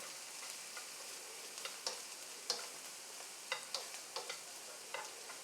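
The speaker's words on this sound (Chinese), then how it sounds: "再加那个虾米干。 都爆香。" Dried shrimp stir-fried in a wok, with a steady, close sizzle throughout and a scattering of sharp spatula scrapes and taps against the pan.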